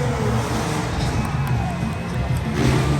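A big monster truck engine roars and revs at close range, loud and continuous, with a steady throaty rumble and no one speaking.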